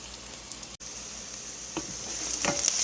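Onions frying in a pan for stir-fried cabbage give a steady, close sizzle with faint crackles and a few louder spits toward the end, heard alone with no talk.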